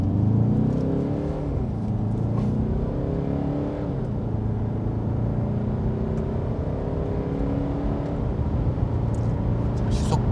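Peugeot 508 accelerating hard past 100 km/h, a steady close engine drone with rising harmonics as revs climb and shift, heard from inside the car over continuous road noise.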